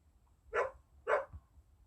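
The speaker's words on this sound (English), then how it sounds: "Sorry about the dogs barking in the background." Two short dog barks, distant and fairly faint, spaced about half a second apart against a quiet background.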